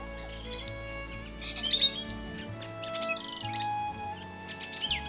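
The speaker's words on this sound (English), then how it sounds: "Can you hear the birds?" Small birds chirp and tweet repeatedly from nearby bushes on Doi Inthanon mountain in Chiang Mai, Thailand, bright short calls scattered over a quiet, steady background.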